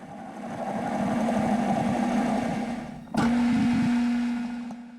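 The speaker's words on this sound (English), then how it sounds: "I face it off." A metal lathe faces off stock for an all-thread holder. It gives a steady mid-pitched mechanical hum with a tonal whine, and a sharp contact sound partway through as the cut engages and the tone firms up.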